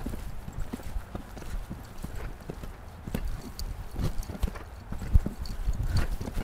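Horse hooves clip-clop during a riding lesson over jumps, a steady rhythm of fairly close thuds on soft ground with occasional sharper strikes and no talk.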